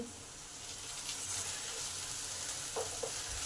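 Potatoes fry in a pan over low to medium heat and give off a soft, even sizzle. A few faint stirring scrapes come near the end, and there is no speech.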